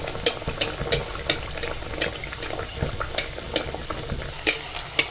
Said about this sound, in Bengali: তো দেখো আমাদের ঢাকাই পরোটা ভাজা হচ্ছে